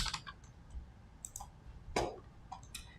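Fingers type on a computer keyboard with sparse, irregular clicks and taps. The keystrokes are quiet and close, with short pauses between small bursts.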